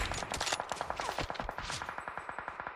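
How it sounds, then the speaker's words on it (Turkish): P50 automatic fire in the battle royale game PUBG Mobile, a fast, steady stream of close, rapid shots rattling throughout with no break. "P50 ile sıkıyor."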